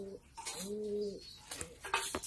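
Pigeons at a bird market in Digambar Bazar, Habiganj, give a close, clear coo with a soft rolling tremble, framed by brief shorter calls before and after.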